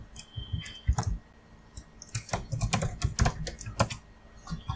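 Code being typed on a computer keyboard: irregular bursts of close, crisp key clicks with short pauses between runs of strokes, no voice present.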